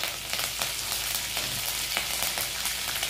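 Curry leaves hit hot oil that already holds urad dal and mustard seeds, for a Konkani raw jackfruit curry, giving a steady bright sizzle with crackling pops throughout, close and alone.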